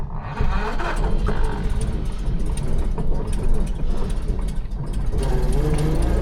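An old Packard car about a century old, driving along with its clutch recently stuck, its engine making a steady loud rumble and low drone throughout, a voice mixed faintly underneath.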